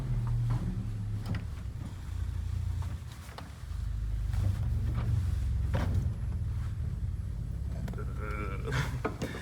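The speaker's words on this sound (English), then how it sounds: "The 32-foot Contra Bourdon sounds like this." Deep, sustained rumble from the 32-foot Contra Bourdon stop of a large pipe organ, its bottom octave digital, heard as a steady low drone with faint ambient room noise across the whole stretch.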